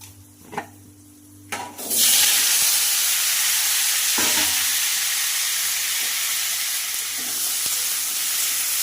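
Green chilies and fenugreek seeds drop into hot oil, which bursts into a sudden loud sizzle after a few light clinks and then settles into a steady, hissing fry.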